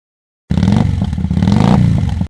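A motorcycle engine rumbles loudly and close for about two seconds after silence, a steady throaty putter that rises slightly in pitch as it revs.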